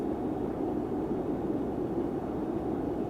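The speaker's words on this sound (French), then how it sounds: "C'est le bruit de l'hélice, ça." A submarine propeller churns in a naval simulation game, a steady low hissing wash with a faint rhythmic chop, quiet and unbroken.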